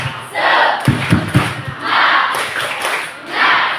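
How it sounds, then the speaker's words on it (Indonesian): Students at a Ramadan short Islamic course held at a high school do a rhythmic spirit clap, loud group chanting and shouting with a short run of sharp thumping claps in the middle. "Sekali lagi, tepuk semangat."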